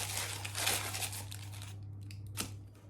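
Baking paper crinkles and rustles up close in a kitchen, loud crackly handling for a couple of seconds, then quieter intermittent crackles with one sharp crunch near the end.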